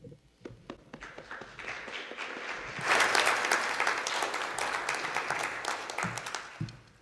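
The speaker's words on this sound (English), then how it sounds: "that's what 800 people clapping in a room that only holds 300 on a Sunday morning sounds like" Around 800 people packed into a conference room built for 300 burst into loud applause for a speaker at a security conference, opening with a few scattered claps before swelling into dense, sustained clapping that thins out near the end.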